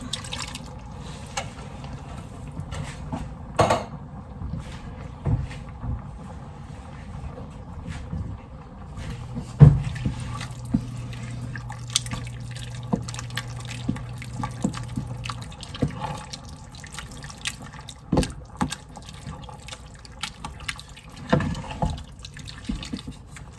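Canned tomatoes with their juice are poured and splash out, giving scattered wet drips and plops over about twenty seconds, fairly close, with a brief steady hum in the middle and no speech.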